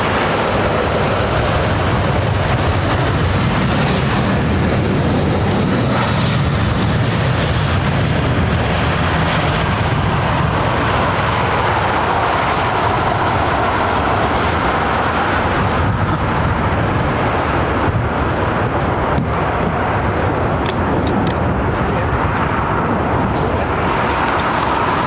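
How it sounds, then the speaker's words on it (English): An airliner landing on runway 27R at London Heathrow with idle reverse thrust gives a loud, sustained broadband roar that fills the whole stretch, with people talking over it. "Or it's just idle reversers."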